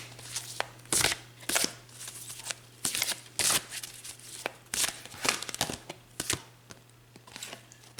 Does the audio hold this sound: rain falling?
no